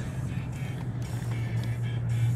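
A truck rolls slowly around a hidden parking lot at about 15 mph, its engine a low, steady hum that holds constant throughout, with no talk.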